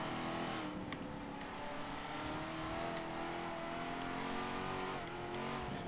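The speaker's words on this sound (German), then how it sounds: "Kann aber am Kurvenausgang schön Vollgas geben im dritten Gang." Car engine at full throttle in the racing game Forza Horizon 3, a Chevrolet Camaro ZL1 or Ford GT350R powering out of a corner in third gear, with a loud steady roar held throughout.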